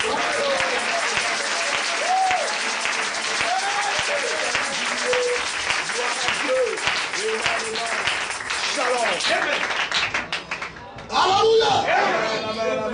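A church congregation bursting into sustained applause, dense clapping mixed with cheers and raised voices, loud and close, tapering briefly before swelling again at the end.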